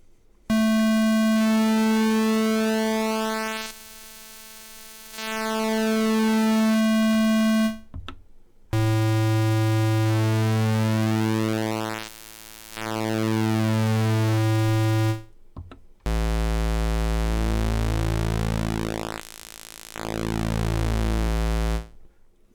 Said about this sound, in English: Now let's go to the square wave, and as you can imagine, the content controls the pulse width.